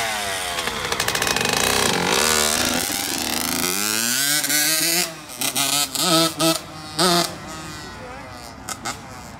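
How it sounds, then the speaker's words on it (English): A Honda CR85 dirt bike being ridden, its two-stroke engine screaming loud and close, revving up through the gears, then cutting in and out in short bursts of throttle. "This is the last ride on the CR85."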